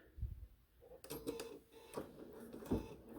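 A 790 Pro embroidery machine quilting fabric in the hoop starts up with a series of mechanical clicks and needle taps, which grow into a close, uneven rhythm of stitching.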